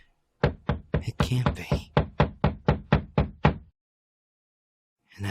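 A scary story's sound effect of knocking on a door: about a dozen sharp, loud raps in a quick, slightly uneven run, close and alone, then silence before a brief voice.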